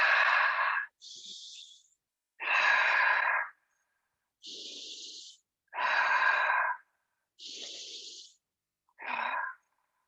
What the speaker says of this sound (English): Inhale deeply.